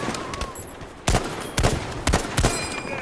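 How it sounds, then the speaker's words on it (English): Rifle fire from an M1 in the Battlefield V video game, set on the beach of Iwo Jima: four sharp, loud shots spaced about half a second apart over a constant backdrop of battle noise. "Oh, just love the sound of that M1"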